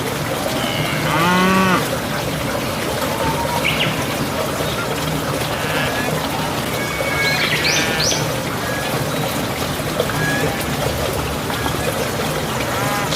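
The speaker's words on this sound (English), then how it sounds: "Cow." A cow lows once, loud and close, with a long deep moo early on, followed by faint farmyard background sounds such as distant bird chirps.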